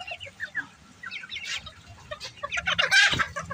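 Several bantam chickens cluck in short, scattered bursts, growing busier and louder toward the end, with no talking.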